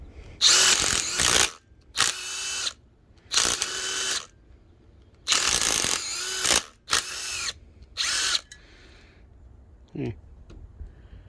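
A homemade file rasps across the threads of a small bolt in about seven short, harsh bursts, each a second or less, separated by brief pauses and heard up close.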